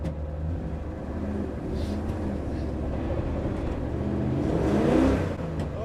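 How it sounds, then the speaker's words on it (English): A Nissan Skyline drifting with wheel spin on a frozen track: a continuous engine drone heard from inside the car, swelling into a louder rev near the end. "Slidey, instant wheel spin."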